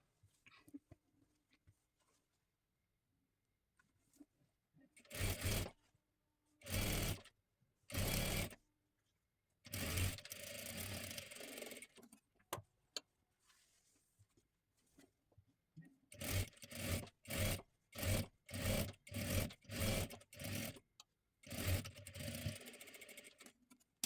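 A sewing machine stitches a fabric strip onto a puff sleeve in a series of close, loud mechanical bursts: a few separate runs early on, then a rapid cluster of short stitching runs with brief pauses between them.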